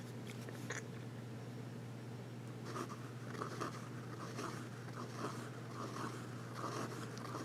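A steel flex-nib fountain pen moves across paper in close, quiet, scratchy strokes, with soft bursts of nib scraping repeating over a low steady hum.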